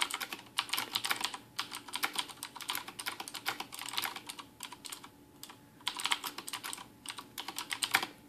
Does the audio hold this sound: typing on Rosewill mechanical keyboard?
yes